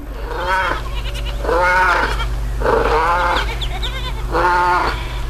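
A flock of sheep bleats close by, four loud wavering calls spaced about a second apart over a steady low hum.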